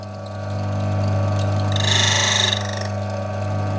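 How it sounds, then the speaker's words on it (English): A Turin DF83 coffee grinder runs with a steady motor hum as its burrs are wound in until they touch, producing a brief brighter scraping whir in the middle before settling back. "Turn the grinder on and wind it in until you hear the burrs touch."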